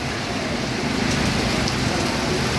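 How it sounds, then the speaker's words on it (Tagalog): Steady, dense typhoon rain pours down as a continuous broadband hiss, loud and close with no pauses or voices. "Grabe ang ulan"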